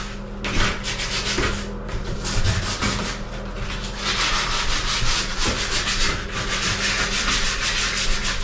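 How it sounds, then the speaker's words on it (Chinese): Sandpaper of 120 grit rubs back and forth over a patched wall seam, a steady, close, scratchy hiss with rhythmic strokes continuing throughout, no talking. "用砂纸把这附近打磨一下，清洁一下。"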